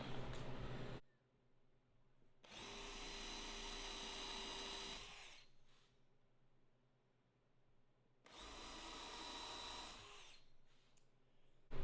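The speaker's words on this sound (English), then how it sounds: "So I'm just using 1/2 inch Forstner bit, and I'm going down just the depth of" A 1/2 inch Forstner bit bores into wood trim during a truck camper interior build, two loud sustained drilling runs of a few seconds each separated by quieter pauses, close up with no talk.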